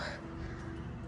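Crows caw outdoors on a pleasant morning, a few harsh calls at moderate distance over a steady low background hum, with no talking.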